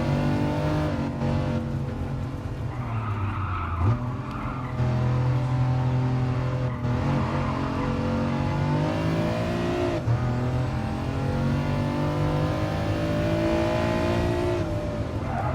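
A race car engine drives in the Gran Turismo Sport video game in VR, loud sustained engine tones rising and falling through gear changes, with brief skid-like squeals, steady and close with no talk.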